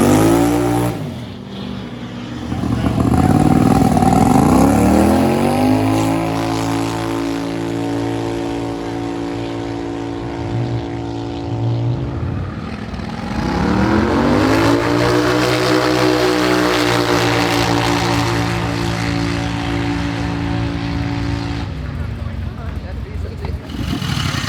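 A Turbo 670 dragster engine screams through a 90+ mph pass, its harmonics sweeping upward twice as it climbs through the revs toward about 7,800 rpm, loud and sustained with a brief dip between the pulls.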